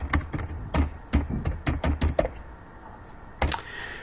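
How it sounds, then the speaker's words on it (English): Quick bursts of keystrokes on a computer keyboard while entering an email address, irregular clicky taps in short runs with a brief pause before a final couple of presses, close and fairly quiet. "just type in my email address to link to that organization"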